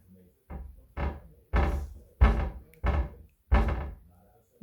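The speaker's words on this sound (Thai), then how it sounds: "ลองเปิดประตูให้แม่ดูสิ" A child opens and closes a kitchen cabinet door again and again, giving seven loud, close knocks and thuds at a steady pace with short gaps between them.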